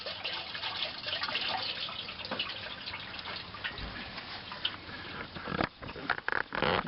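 Engine oil from a Ford F150 with a 5.4L engine draining into a pan, heard as a steady trickling stream that breaks into irregular drips near the end, close and fairly quiet.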